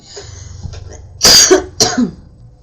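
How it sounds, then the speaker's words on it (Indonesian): Two loud, close coughs in quick succession from a speaker during a talk show, rising from a quiet background with faint low hum. "Aduh, saya batuk."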